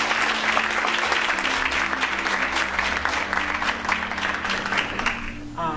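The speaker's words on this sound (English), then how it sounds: "would you give her a round of applause as she comes here?" Audience applause fills a domestic violence awareness event, steady dense clapping from a crowd that carries evenly for several seconds before thinning slightly at the end.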